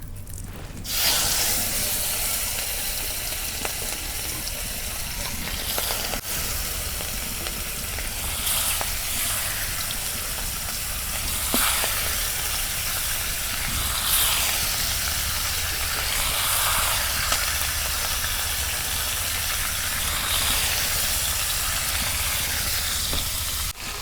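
Pangas fish sizzles and fries in hot oil in a kadai, giving a steady, dense crackling hiss that stays loud and unbroken throughout, with no voices.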